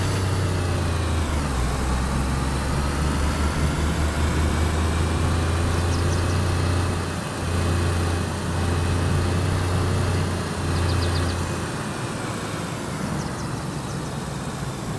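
Car engine in the DayZ video game, a steady mid-to-low engine drone that holds throughout with slight rises and dips in pitch, as if driving or idling, with no talk over it.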